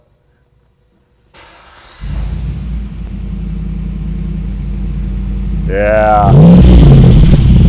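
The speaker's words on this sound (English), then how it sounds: "I'm gonna fire this thing up for you, and I tell you, it doesn't sound like a normal Jeep" A Jeep Wrangler with a non-stock engine cranks and fires up after a second of quiet, settling into a deep, loud rumbling idle before a rev swells near the end; a brief voice sounds just before the rev.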